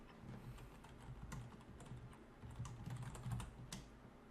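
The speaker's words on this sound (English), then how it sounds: "we'll type in a search term" Quiet, close typing of a search term on a computer keyboard, with uneven bursts of soft key clicks and short pauses and no talking over them.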